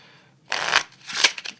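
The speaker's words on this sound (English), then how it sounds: "The spectator genuinely shuffles any deck, alright? So they shuffle it back." A deck of playing cards is shuffled by hand in two quick riffling bursts, close and crisp, with no voices.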